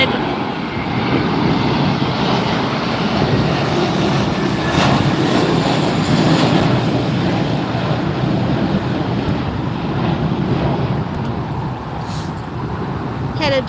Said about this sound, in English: Here comes the JetBlue Airbus 321.